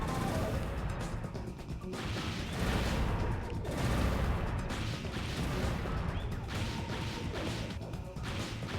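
Machine-gun fire from an armored mech in Armored Core Nexus, sustained loud bursts mixed with crashing impacts and explosions, continuous across the whole stretch.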